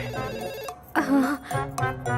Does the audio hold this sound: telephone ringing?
yes